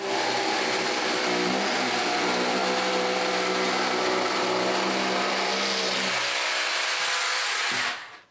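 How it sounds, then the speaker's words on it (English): A jigsaw cuts through a wooden door frame with a loud, continuous buzzing drone that holds steady for about eight seconds before abruptly cutting off, close to the listener. "It's time to get the jigsaw."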